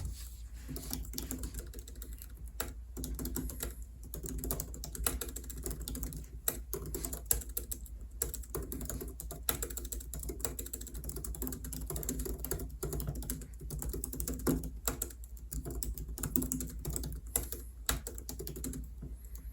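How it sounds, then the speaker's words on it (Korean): Fast, continuous typing on an M1 Pro MacBook's scissor-switch keyboard: dense, close, crisp key clicks in a steady stream with no talking. "맥북의 키보드 굉장히 타이핑하는데 좋았습니다"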